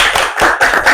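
Students clap together in a classroom, producing a quick series of three or four loud, close, sharp claps in a steady rhythm.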